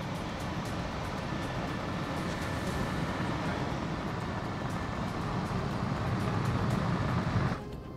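Automatic car wash machinery in Lahore, with the front dry polisher and brushes running as a steady, loud, broadband mechanical roar and whoosh that continues throughout and drops off abruptly near the end.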